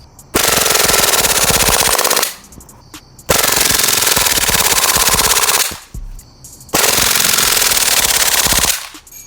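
An airsoft Glock 18C pistol firing on full auto in three long, loud, rapid bursts of about two seconds each, separated by brief pauses.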